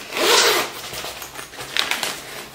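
A zipper on a printed fabric bag is pulled open and shut in two quick rasping strokes, close and alone with no talk.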